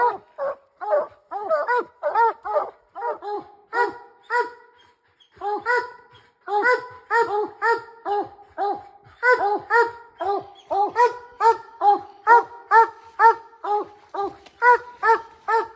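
Several bear hounds bark and whimper in rapid, excited bursts close by, yips and howling whines overlapping with only a brief lull.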